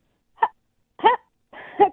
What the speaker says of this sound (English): That was her surprise sound, I think. Almost like a hiccup.